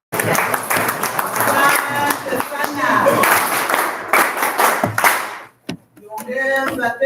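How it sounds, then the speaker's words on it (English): An audience at a teachers' science training closing ceremony claps in a loud, dense burst of applause that runs for several seconds, then breaks off and starts again briefly. "Did we clap for you?"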